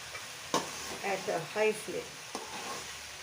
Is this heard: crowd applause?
no